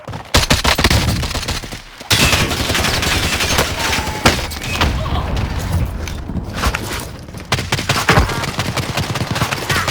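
Dense automatic gunfire and rapid bursts rattle almost continuously in a Call of Duty: Warzone battle, with akimbo Cold War Magnum pistols, loud and close, with short lulls and occasional booms.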